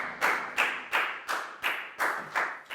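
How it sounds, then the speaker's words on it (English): Seven regular claps spaced about half a second apart, close and fairly loud, a teacher leading rhythmic applause for a student in a Year 4 maths class. "High five and a big round of applause for Pak Bung"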